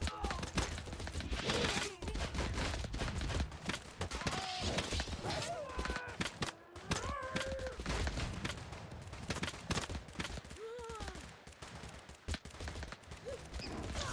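An enemy barrage in a video game sends dense, rapid gunfire crackling in irregular bursts, close and fairly loud. Someone talks throughout over the shots.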